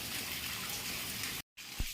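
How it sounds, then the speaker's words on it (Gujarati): Rain starting over a farm field with water running, a loud, continuous rushing wash of water that cuts out briefly before resuming with a low thump. "આજે વરસાદ ચાલુ થઈ ગયો હોય એવું પાણી જાય છે"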